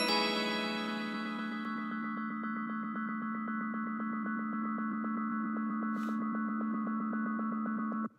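A short synth melody fed through a delay with feedback pushed past 100%, the repeating notes piling up into a dense, sustained tonal wash with a steady pulsing rhythm; one brief bright burst lands near the end before it cuts off.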